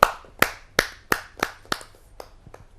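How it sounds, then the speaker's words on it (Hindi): At a Hindi kavi sammelan, sparse handclaps welcome a poet: seven or eight distinct, fairly close claps at a steady, slowing pace, each sharp and quickly fading, with no crowd roar and no talk. "आइए जोरदार तालियों से स्वागत करते हैं उनका"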